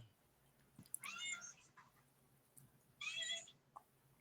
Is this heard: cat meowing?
yes